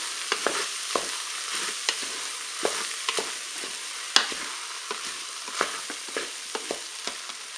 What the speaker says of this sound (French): Je vais maintenant rajouter tout mon riz avec les carottes, les petits pois. Vous mélangez bien tout ça